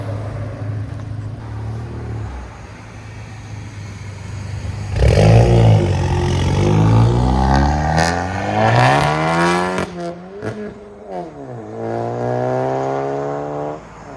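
A 2020 VW GLI turbo with downpipes and straight pipes idles with a deep drone, then revs hard several times, its exhaust note climbing and falling loudly before settling back; no one speaks.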